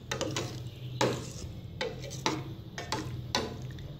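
A spoon stirs plum chutney with white and red chili in a pan, making repeated scraping knocks in an irregular rhythm, close and moderately loud, no talking.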